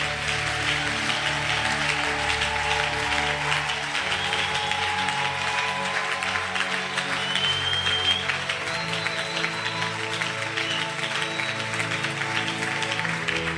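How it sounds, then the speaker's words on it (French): A church congregation applauds and acclaims in sustained, dense clapping and cheering that fills the room, with music or voices held underneath throughout. "on acclame le Seigneur. Je disais, on acclame Jésus."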